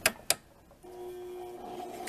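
A sewing machine stitches in reverse along the casing of a dirndl blouse with a square neckline, starting with two sharp clicks before a steady, close mechanical whir that runs to the end with no talking.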